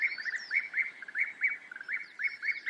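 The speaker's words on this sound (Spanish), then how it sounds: "llegan millones de pájaros que el invierno expulsó hacia el sur" Birds in a European deciduous forest in spring sing a rapid, repeated series of bright chirping notes, clear and fairly close, with fainter calls behind them.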